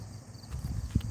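Horse hooves clip-clop in a short burst of quick, muffled, low thuds, fairly close and moderately loud, as if a horse is setting off at a walk, with no voices.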